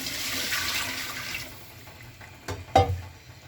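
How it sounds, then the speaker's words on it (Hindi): Water rushes into a pot of browned chicken biryani base for about a second and a half, followed by a couple of sharp metallic clanks. "अब इसमें हम पानी डाल रहे हैं।"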